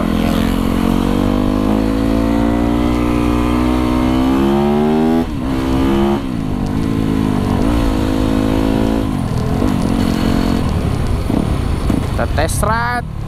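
Yamaha YZ 250FX supermoto motorcycle engine revving during a test ride, rising and falling throttle blips and sustained high revs, close and loud, with a few short breaks between pulls.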